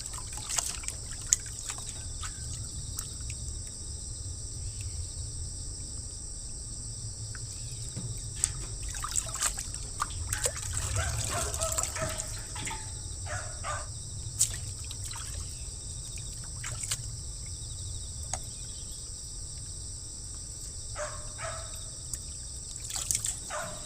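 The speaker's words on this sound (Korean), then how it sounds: "깻잎은 사이사이 흔들어가며 잘 씻어줍니다. 세 번 정도만 헹궈서 물기를 꽉 빼주겠습니다." Perilla leaves rinsed in a basin of water, with intermittent sloshing, dribbles and small splashes as the leaves are shaken about, fairly quiet and without speech.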